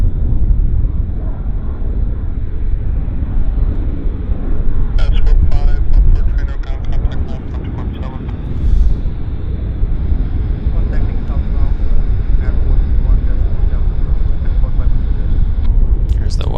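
An airliner taxiing to its parking spot at Vancouver airport sends a steady low engine rumble with a thin whine on top, heard from outdoors while someone talks over it throughout.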